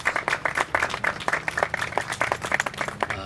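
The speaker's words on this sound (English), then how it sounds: "I would like just a round of applause for all those donors" An outdoor groundbreaking-ceremony audience gives a round of applause for donors, a modest crowd clapping with distinct, uneven hand claps, moderately near, sustained for several seconds.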